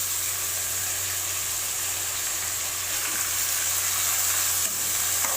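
Onions and chopped tomatoes fry in a pan for a bitter gourd gravy, giving a close, steady sizzle with faint stirring and no talk.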